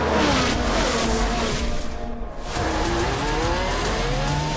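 A Formula 1 race car in a racing video game roars at high revs, with its engine pitch sweeping up and down through gear changes and a brief dip. It is loud and close throughout, with no talk.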